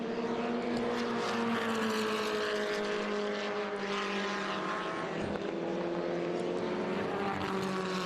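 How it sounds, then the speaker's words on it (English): Formula Ford race cars at Laguna Seca: a continuous high engine drone with pitch sweeps as cars pass, layered and sustained at a moderate distance, with no talk. "that is one of the more modern Formula Fords out there"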